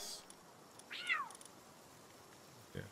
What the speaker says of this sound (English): who's meowing at me?